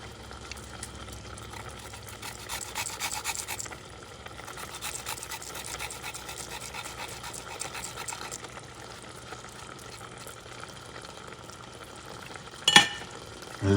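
Minced garlic frying in a pan, a steady close crackling sizzle with no talk, ending with a brief clatter near the close.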